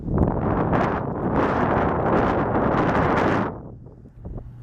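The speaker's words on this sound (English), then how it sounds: "Oh yep, there's the wind" Heavy wind buffeting a microphone outdoors on a small-town main street, a loud continuous rumble for most of the clip that drops off abruptly near the end, leaving faint traffic-like background.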